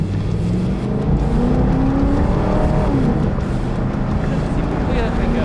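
A Camaro engine roars under hard acceleration during a 0 to 60 test, the pitch sweeping upward through rising gears with loud in-cabin road and wind noise, and voices talking over it.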